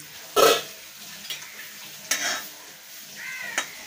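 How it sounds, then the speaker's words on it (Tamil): Fish fries in a pan with a soft, constant sizzle, broken by a few louder scraping bursts as a utensil turns or stirs it; no one speaks. "மீன் பொரிச்சிட்ருக்கேன். ரெண்டுமே சாலை மீன் தான்."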